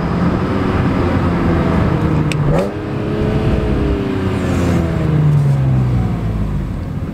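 BMW M3 pulling in: a close, loud engine note that dips briefly, then rises and falls in smooth revving sweeps as the car rolls up, with a whirring tone overhead.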